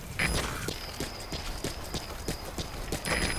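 Steady clip-clop of horse hooves at a walking rhythm in Metal Gear Solid V: The Phantom Pain, close by, with a few faint high electronic tones over it.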